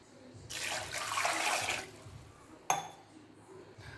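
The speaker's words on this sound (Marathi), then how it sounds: "त्याच्यामध्ये पाणी टाकून घेऊया।" Water poured into a pot of six medium raw mangoes: a splashing pour of about a second and a half, a short pause, then a quick clank of the pot and a brief second splash.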